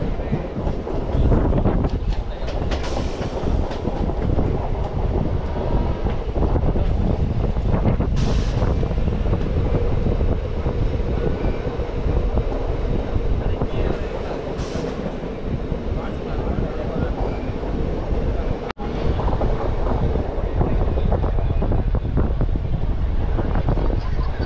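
A DEMU passenger train running from Trichy to Velankanni, heard up close as a loud, steady rumble mixed with heavy wind buffeting for the whole stretch, with one brief break in the noise near the end.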